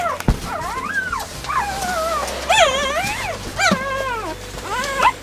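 Purebred Australian Shepherd puppy whimpering and whining in a series of rising and falling high-pitched cries, fairly close and loud, with no talk over it.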